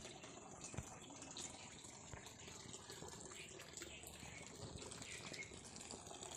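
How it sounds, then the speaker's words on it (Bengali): Water falls and pours out steadily in a village setting, a faint, continuous rushing splash with no pauses. "আর এখানে তো ভালোই জল পড়ছে"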